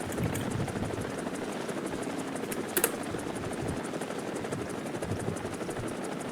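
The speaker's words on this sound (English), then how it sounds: "Alright, helicopters." Helicopter in the combat video game War Thunder, its rotor beating in a steady, continuous throb at moderate volume with a brief sharp burst partway through and no talk.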